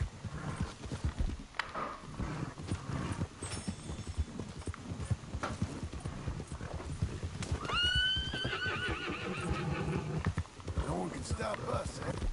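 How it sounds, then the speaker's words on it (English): A horse in Red Dead Redemption 2 lets out a loud, drawn-out neigh partway through, between steady hoofbeats, while someone talks over much of it. "Good horsey. I love my horsey and my horsey love me."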